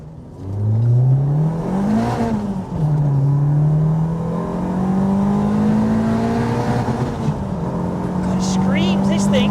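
A Renault 5 Campus fitted with a 2.0 engine revs hard and climbs through the rpm, the engine note rising and falling loudly and continuously close by, with a brief dip mid-rev.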